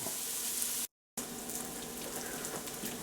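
Chopped onions and smoked sausage fry steadily in a pan, a dense, even sizzle broken by one sudden drop to silence, then the sizzle carries on close up with no voices.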